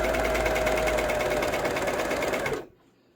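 A sewing machine stitches the hem of a shortened sleeve, a close, even, rapid mechanical hum with a steady motor whine that runs for about two and a half seconds before stopping abruptly into quiet.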